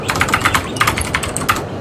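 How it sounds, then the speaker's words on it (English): Loud, fast computer keyboard typing close to the microphone, a quick run of sharp clattering keystrokes with a brief pause in the middle, with no talk. "Hey, stream, you want to hear me type?"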